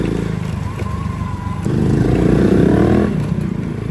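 A motorcycle fitted with a newly installed tubeless rear tire runs on a ride to work, a steady engine drone that swells louder midway, then eases back.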